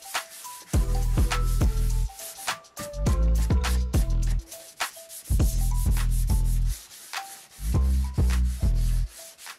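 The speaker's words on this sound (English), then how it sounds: "I then sanded the chamfer and then everything else by hand," Rhythmic back-and-forth strokes of hand sanding along the edges of a plywood coffee table, coming in close, loud bursts of rasping friction separated by brief pauses.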